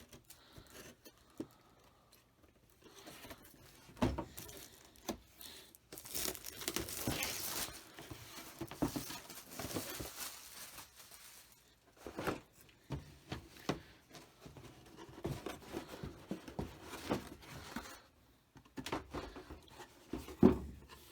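Packaging of a vintage USS Enterprise-B being cut open and unwrapped, with quiet crinkling, tearing and scattered handling clicks in uneven bursts, close and faint, no talking.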